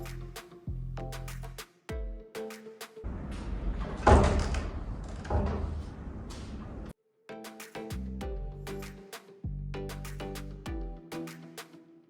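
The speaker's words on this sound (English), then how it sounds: "The door kept on creaking and slamming from the wind" A door at the windy summit of South Dakota's highest peak creaks and slams in strong gusts, with drawn-out creaking tones around a loud, noisy burst of banging and rushing wind in the middle.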